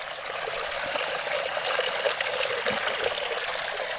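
Spring water flows steadily in Kosovo, a continuous close rushing trickle with constant level and no voices.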